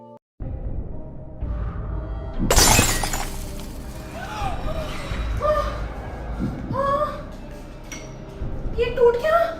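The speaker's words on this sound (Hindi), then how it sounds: "ये टूट गया। ये किसने तोड़ा?" A loud, sharp shatter of something breaking indoors at a family home, a sudden crash with bright scattering debris that fades into household noise while people talk around it.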